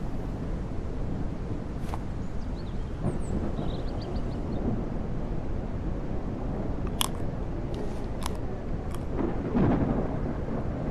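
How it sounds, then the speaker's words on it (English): A thunderstorm rolls through the Mist Survival game world, a dense steady wash of rain and low rumbling thunder with occasional sharp ticks and clicks, no talking. "We've got a storm coming in."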